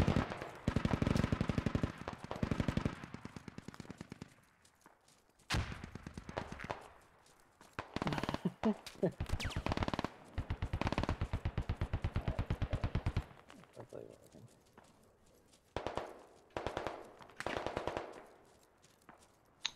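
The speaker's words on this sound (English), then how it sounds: "It's an enemy M4 that was shooting" Enemy M4 rifle fire in the military shooter Squad: repeated sharp bursts and single cracks, some close and loud, others fainter, with gaps of quiet between volleys and little talk.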